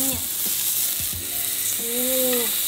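Korean hanwoo beef pan-frying, a loud, continuous close sizzle with a few squeaky scrapes and a brief flip-like clatter partway through.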